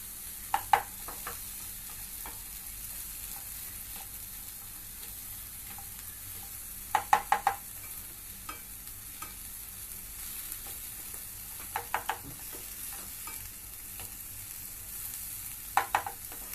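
Green peas dry-roasting in a pan give a quiet, steady low sizzle, with sharp clusters of spatula scrapes and clicks from stirring at irregular intervals; no talking.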